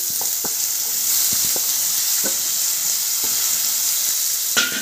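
Thinly sliced onions and green chillies sizzle steadily in a hot pan for egg poratu, a constant close frying hiss broken by a few soft clicks of stirring.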